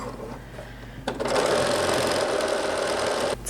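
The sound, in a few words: sewing machine stitching curved edge of cotton knit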